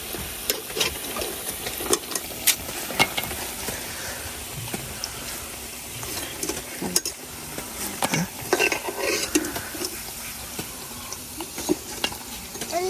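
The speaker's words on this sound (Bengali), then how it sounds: "আমি যেরকম লাল করে ভাজে নিছি তো আমার এই পাকোড়াগুলো কিন্তু হয়ে গেছে" Potato pakoras frying in hot oil in a village kitchen, a steady crackling sizzle with repeated scraping and stirring clinks of a metal utensil against the pan, close and fairly loud with no talking.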